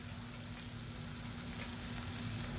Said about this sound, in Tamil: அந்த சாதத்தை போட்டு நல்லா மிக்ஸ் பண்ணிவிட்டுக்கலாம்